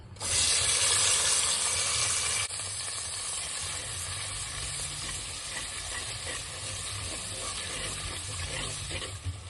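Onion and garlic fry in a pan, probably clay, with a steady close sizzle that opens louder for the first couple of seconds and then settles into an even hissing crackle. No voices are heard.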